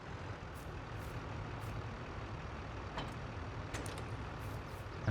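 A truck in Farming Simulator 22 backs up to hitch a trailer for a heavy silage load, giving a low, steady engine drone with faint intermittent hisses and a brief clunk at the end, no talking.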